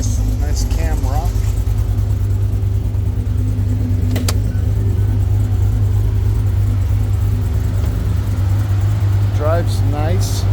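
A Cummins diesel truck with a custom cam and larger injectors idles nearby with a steady, deep lumpy rumble that holds throughout, while someone talks over it.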